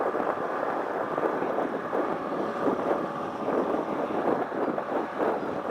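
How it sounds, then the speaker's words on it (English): A small motor on a Basstender 11.3 boat runs under strong wind. A steady, rushing wind buffet on the microphone largely covers the engine drone. "see how quick I can get this thing going with the wind blowing on me like this"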